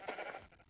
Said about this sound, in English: I should shear the sheep because he's just standing around there